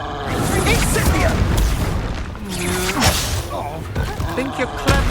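An Incendio fire spell blasts in a Hogwarts video game duel: loud, dense booming bursts and whooshing effects that roll continuously through the fight, with a voice-like layer mixed in.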